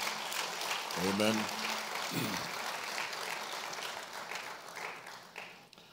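Church congregation clapping for the Second Lady during a service, a steady wash of applause running under brief spoken exclamations from voices early on, fading gradually toward the end.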